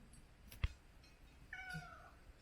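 A domestic cat gives a single short meow close by inside a farmhouse entrance, followed by a sharp knock and faint quiet background.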